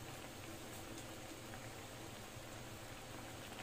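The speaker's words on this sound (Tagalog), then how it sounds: "pakuloyin lang natin ng ilang minuto" Sinigang broth with shrimp, radish and other vegetables boiling in a pot, a faint, steady bubbling hiss that continues evenly with no talk.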